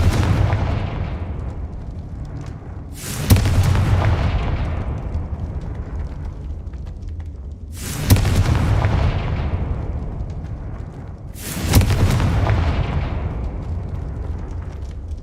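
Three deep booming blasts from the Confringo fire spell in Hogwarts Legacy, each one striking sharply and then rolling off in a long fading rumble, spaced several seconds apart.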